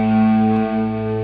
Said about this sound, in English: It sounds alright with distortion on there.